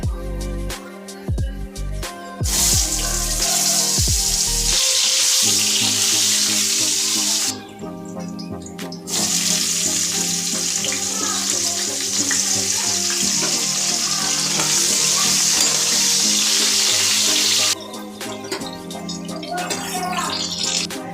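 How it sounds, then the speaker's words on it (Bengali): Potatoes and pointed gourd frying in oil already used for frying fish, for a Bengali katla fish curry. A loud, steady sizzle runs in long stretches broken by brief pauses, with no talking. "এই তেলে আলু আর পটলটা ভাজবো।"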